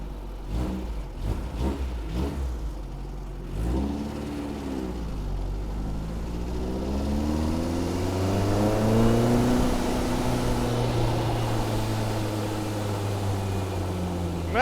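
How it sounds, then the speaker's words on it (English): A race car engine revs steadily in a long rising and falling sweep, loud and close throughout, with no talking. "Race car noises."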